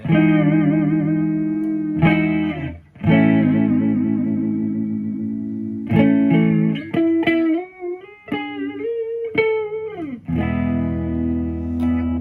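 A Kin Ryu KR-1 electric guitar plays through heavy distortion, with loud sustained chords and single notes, some bends and slides, and brief breaks between phrases.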